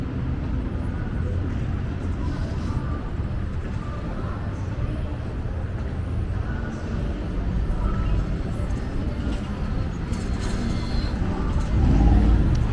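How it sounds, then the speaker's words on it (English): Steady downtown Dallas commuter traffic leaving the city, a continuous low rumble of passing cars and buses heard from the sidewalk, swelling slightly toward the end. "this is traffic, commuter traffic, leaving."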